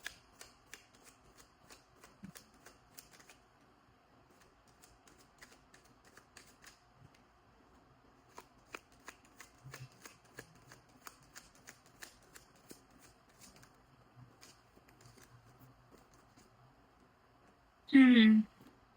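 Tarot cards are shuffled by hand in a quiet room, soft riffling flicks and taps repeating through the clip, followed by a short loud burst near the end.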